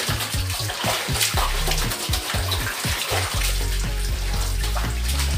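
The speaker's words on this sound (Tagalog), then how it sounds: "Ito, kailangan mo pa siyang banlawan." Laundry clothes are rinsed by hand in water, with continuous sloshing and splashing, close and fairly loud, with no talking.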